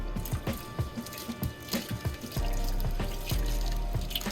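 Tap water runs and splashes while a stove top is rinsed, a close, uneven stream broken by irregular splattering and dripping hits, fairly quiet overall.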